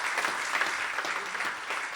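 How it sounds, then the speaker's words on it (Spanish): A church congregation bursts into applause during a Spanish-language Sunday morning sermon, dense continuous clapping that fills the room at steady volume throughout. "Denle un aplauso a Dios en esta mañana."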